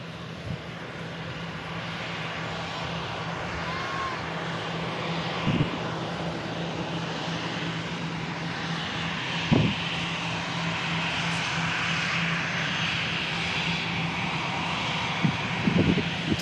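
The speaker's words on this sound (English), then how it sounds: "TAP Air Portugal arriving in from Lisbon." A TAP Air Portugal airliner arriving from Lisbon at Manchester Airport, heard as a steady, broad engine roar that holds at an even level throughout, with a few faint knocks beneath it.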